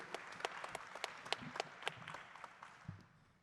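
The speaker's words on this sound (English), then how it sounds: "Round of applause for the panelists, Kirk, Jody, John, Jason," Light, scattered applause from a modest audience at a Band of Brothers veterans panel in New Orleans, a few distinct claps rising and then thinning out quickly.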